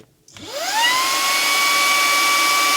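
A Nicebay cordless handheld vacuum switches on and spins up to its low speed setting, a rising whine that settles into a steady, loud motor hum with a high tonal pitch.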